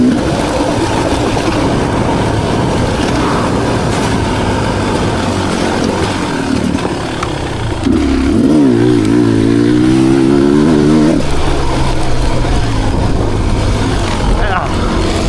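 A 300 two-stroke motorcycle roars steadily and loudly up close, its whining note climbing and falling as the engine revs midway through, against constant wind rush.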